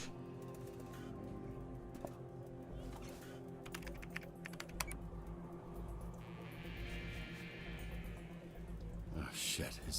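Keyboard typing in the video game Dispatch comes as scattered quick clicks and short bursts over a steady hum, faint and close. Voices talk over it, with a brief noisy burst at the end.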